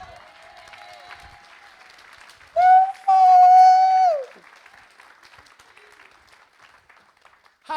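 A church congregation applauds and cheers during a service: a steady low bed of clapping, then a loud, sustained high cheer or whistle-like cry rises briefly in the middle before fading back into the crowd.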